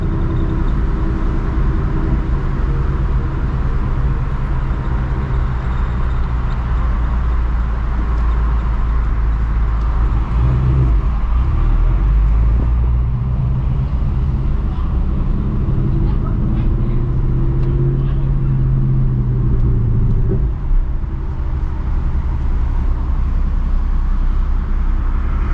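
A 2024 Mustang GT running on E85 fuel drives along, its engine a loud, steady drone with constant road rumble and only slight swells, heard from inside the cabin with no talking.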